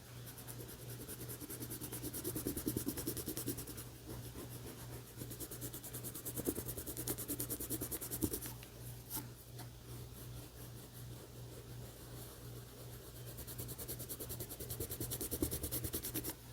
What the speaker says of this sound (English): So I'm going to gently erase my pencil marks.